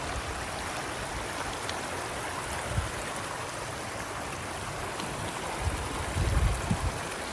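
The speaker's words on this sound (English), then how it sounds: "it looks like the creek is just everywhere through here" Water from a creek on a trail flows steadily and fills the whole scene with a broad, continuous rushing wash. A few low bumps near the end sound like footsteps moving over rocks close by.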